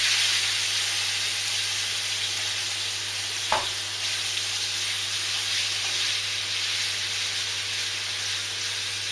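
Seasoned meat fries in a hot pan for a stew with a steady, loud, hissing sizzle throughout, broken once by a brief clunk of the pan or utensil.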